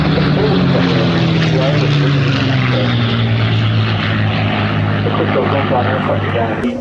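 Spitfire with a double contra-rotating propeller passing at an air show, a loud continuous droning engine and prop roar that holds steady across the whole stretch with a slowly falling pitch.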